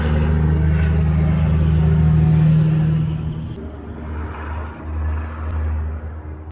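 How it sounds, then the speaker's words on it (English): A truck rumbles past outdoors, a deep engine drone with low tonal hum that is loud at first, then fades after a few seconds into softer passing traffic noise. "now that the truck's done interrupting us"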